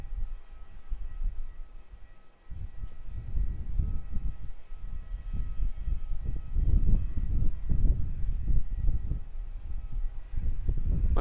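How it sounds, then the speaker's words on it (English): QantasLink Airbus A220-300 jet at Melbourne Airport producing a steady, broad engine rumble with low roar that holds fairly loud throughout and swells slightly midway, with no talking. "A220-300 in the green QANTASlink livery. First time for me spotting this aircraft."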